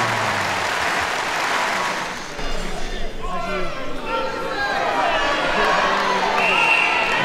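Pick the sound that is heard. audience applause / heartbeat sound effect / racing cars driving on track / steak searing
audience applause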